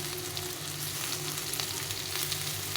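Mashed boiled potato fries with a chickpea mixture for chana chaat, giving a steady, even sizzle. It stays fairly quiet and continuous throughout, with faint low hum beneath and no voices.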